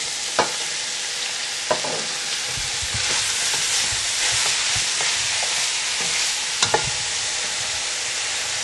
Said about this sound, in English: And we'll just get this garlic going a little bit more